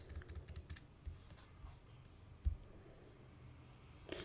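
Soft, quiet clicks of fingers typing Python code on a computer keyboard, in a few quick bursts early on, then a lone louder tap near the middle and another at the end.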